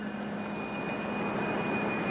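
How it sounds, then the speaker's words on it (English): A steady low rumble of a GO commuter train pulling in at a distance near Midland Avenue, Scarborough, Toronto, continuous and even, with a faint high whine running through it. "Oh, there's a GO train"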